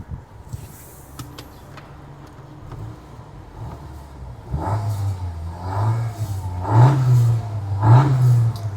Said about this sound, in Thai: ขออนุญาตเร่งเครื่องให้ฟังสักเล็กน้อยแล้วกันคุณผู้ชมครับมาฟัง เสียงเครื่องยนต์กันนะฮะ